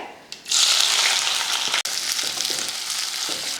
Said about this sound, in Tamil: கடுகு நல்லா பொரிஞ்சதுக்கப்புறமா 2 வெங்காயம், கொஞ்சம் கருவேப்பிலை.